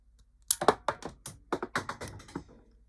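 A toy trigger on a LEGO Star Wars 75241 Echo Base Defense shooter being pushed down and fired, producing a quick series of sharp plastic clicks and taps close by, about ten in roughly two seconds, with no talking.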